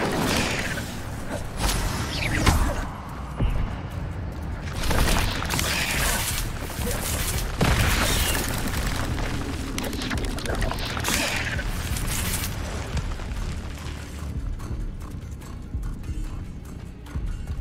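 Incendio fire spell cast in the video game Hogwarts Legacy: loud whooshing bursts and crackling flares recur across the clip, mixed with other combat effects and a voice shouting spell names.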